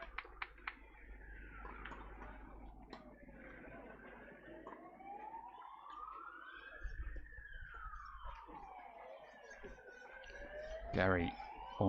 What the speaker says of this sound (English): Probably hear and see the ambulance travel past in the background.